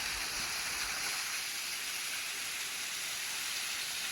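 Running water hisses in a steady, even rush, like a small waterfall heard from nearby, with no voices.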